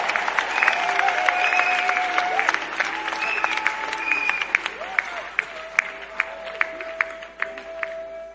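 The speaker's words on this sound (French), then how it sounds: "Offrons d'acclamation à Jésus-Christ" Congregation in a church service clapping steadily, with bright whistle-like tones and a sustained high musical note running through the applause, the clapping thinning out into sparse, sharp individual claps toward the end.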